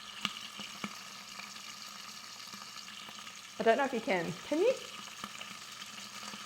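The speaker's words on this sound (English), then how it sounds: "it's sizzling away there now. So that's browning those onions." Onions sizzle with a steady, soft hiss throughout as they brown in a Thermomix TM6, and a person speaks briefly partway through.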